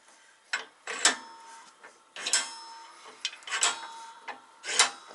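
Poly control arm bushing being pressed into a socket, heard as a series of close creaks, squeaks and rubbing scrapes in irregular bursts, with no talk.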